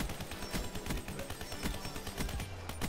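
HG40 submachine gun firing with rapid fire in a first-person shooter, heard as a dense, steady stream of shots over busy game sounds for the whole stretch, moderately loud, with no talking.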